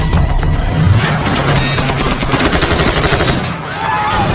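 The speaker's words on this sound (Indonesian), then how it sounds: "Travis menancapkan mobilnya masuk ke gedung itu sambil dihujani oleh tembakan bertubi-tubi" Heavy, rapid gunfire rains down on a car in an action film as it crashes into a building, a dense continuous barrage of shots mixed with loud rumbling and crashing throughout.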